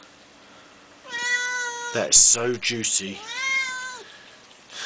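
A cat meows several times in long, rising and falling calls, close and loud, while someone speaks briefly in the middle during a rotisserie chicken carving session.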